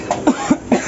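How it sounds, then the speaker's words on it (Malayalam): Repeated coughing, about four short harsh coughs in quick succession, triggered by chili powder in the air while eggs are cooked; close and fairly loud with no talking. "മുട്ടയാക്കുന്ന മുളക് പൊടി ഇട്ടതിനെ കൊണ്ട് നല്ല ചുമയുണ്ട്."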